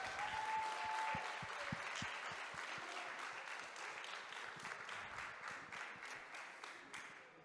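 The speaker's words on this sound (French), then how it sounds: "je vous propose d'abord d'applaudir les participantes de cette table ronde" A live audience applauds the participants of a round-table discussion at a public talk, with steady, dense clapping from a room full of people that holds for several seconds and then slowly thins out.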